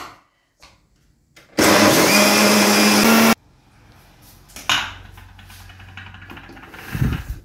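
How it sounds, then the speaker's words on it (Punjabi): A kitchen mixer grinder blending cooked, cooled tomatoes into a fine paste runs loud and steady in one burst of about two seconds, preceded and followed by quieter handling clatter and clicks. "ਟਮਾਟਰ ਜਿਹੜੇ ਅਸੀਂ ਕੁੱਕ ਕੀਤੇ ਸੀ ਉਹ ਠੰਡੇ ਹੋ ਗਏ ਜੀ, ਅਤੇ ਅਸੀਂ ਹੁਣ ਮਿਕਸਰ ਗ੍ਰਾਈਂਡਰ 'ਚ ਇਹਨੂੰ ਐਡ ਕਰਦੇ ਹਾਂ।"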